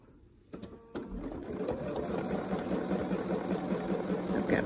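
A domestic sewing machine stitching a quilt guided along a ruler template, starting with a few clicks and then settling into a steady rapid mechanical whir, moderately close and without talk.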